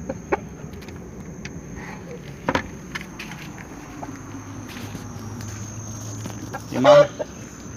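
Roosters in a backyard flock of a dozen birds, with scattered clucks and a louder crow-like burst near the end over quiet outdoor ambience and a few footsteps.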